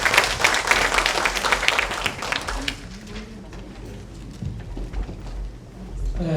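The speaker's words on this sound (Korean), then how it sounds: "큰 박수로 말씀을 드리겠습니다" Applause at a citizens' public forum on household waste and incineration facilities, a dense burst of clapping for a few seconds that fades out, leaving quieter room noise and faint low voices.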